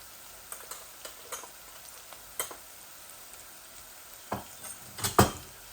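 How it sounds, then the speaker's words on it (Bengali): Spices for a chicken and shatkora curry fry quietly in a pan, a soft low sizzle broken by scattered scrapes and taps of a spoon, with a few louder clinks near the end. "আমার মশলাগুলো একটু ভাজা ভাজা হয়ে যাক"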